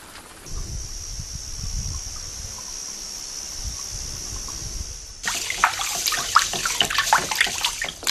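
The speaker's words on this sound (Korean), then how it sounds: "손질 일할 것도 없이 산에서 내려오는 물에 담갔다 꺼내면 반찬 준비는 끝." Vegetables are dipped in mountain stream water at a Jirisan hermitage, with steady running and trickling water under a faint high whine, then louder splashing and sloshing close by.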